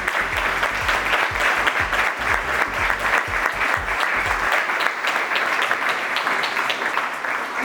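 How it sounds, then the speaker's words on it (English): An audience at a panel event on AI and the future of work claps steadily in sustained applause, dense and even, filling the room with no voices on top. "Round of applause."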